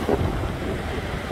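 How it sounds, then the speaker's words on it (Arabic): Heavy sea waves surge and roar against the shore at the Al Hoceima corniche beach, a steady loud wash with strong wind buffeting the microphone. "الموج خطير الموج خطير"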